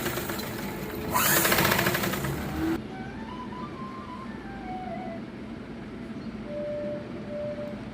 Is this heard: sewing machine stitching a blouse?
yes